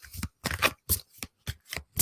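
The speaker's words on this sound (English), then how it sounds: "I've been shuffling the cards and it was the king again." Tarot cards are shuffled by hand in quick close bursts, about seven crisp riffling flutters separated by brief silences, with no talking.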